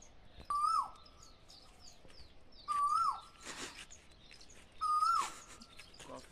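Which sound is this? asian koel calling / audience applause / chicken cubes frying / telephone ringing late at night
asian koel calling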